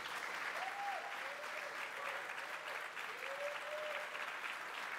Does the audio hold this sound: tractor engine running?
no